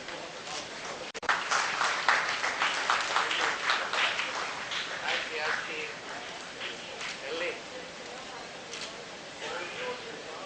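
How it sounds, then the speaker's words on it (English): Audience applause at the ICDS 2014 dental conference, greeting Dr. David C. Trotter; a dense patter of clapping starts abruptly about a second in and carries steadily, tapering somewhat toward the end, with a voice talking over it. "A huge round of applause, ladies and gentlemen, for Dr. David C. Trotter."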